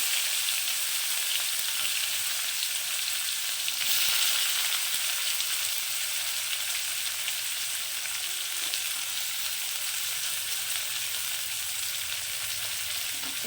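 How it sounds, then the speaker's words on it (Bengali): Two medium chopped onions sizzling in hot oil with fried radhuni spice for a puti fish chorchori: a steady, loud, hissing fry that runs unbroken throughout, with no voices. "পেঁয়াজটা এবার আমি লাল লাল করে ভেজে দেবো"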